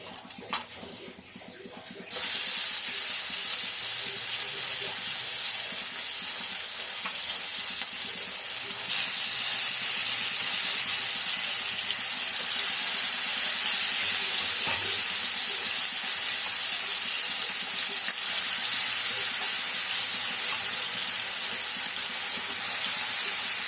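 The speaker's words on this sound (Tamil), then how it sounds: "1 நிமிஷம் நம்ம மீனை பொரிச்சு எடுத்துக்கலாம்." Loud, continuous sizzling and crackling of fish frying in hot oil in a kadai, starting abruptly after a brief quieter moment and hissing steadily throughout.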